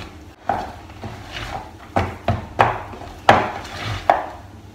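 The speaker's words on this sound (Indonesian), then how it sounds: "Aduk lagi." Poğaça bread dough is stirred in a bowl, a spoon knocking and scraping in irregular close thumps, roughly one every half second, with no talking.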